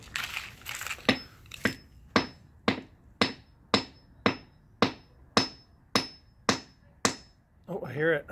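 A hammer strikes a geode about a dozen times at a steady rhythm outdoors beside a shed, each blow a sharp, close crack with a brief ring, and a short burst of talk comes at the end.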